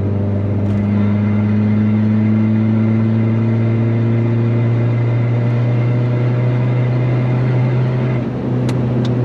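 Stage 3 Volkswagen 1.9 TDI diesel engine with a custom intake, running loud and close with a steady droning tone that rises slightly as it revs, continuous through the whole stretch.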